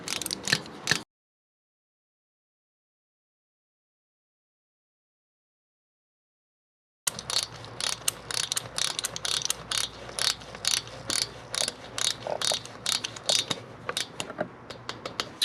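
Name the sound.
torque wrench tightening Harley-Davidson M8 lifter block bolts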